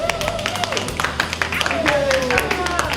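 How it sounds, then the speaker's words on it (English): A group at an underwater robotics camp for girls gives a round of applause, dense close clapping filling the moment while voices carry over it. "So I'd like to give everyone to give themselves a fantastic round of applause."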